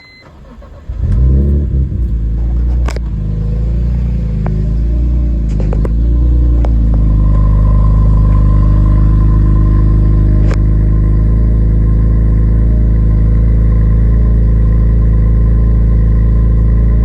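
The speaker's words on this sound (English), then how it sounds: "Definitely do some revs here, so I'm gonna set the phone down, do some revs." A 2004 BMW E46 M3 engine catches on cold start with a sharp burst, then settles into a loud, close, deep steady idle with a few faint clicks, no voices.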